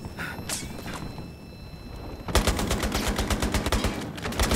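Rapid automatic gunfire from the M12S in the video game Battlefield Hardline, a sustained burst of loud, close shots that starts abruptly after a quieter stretch of game ambience and keeps going to the end.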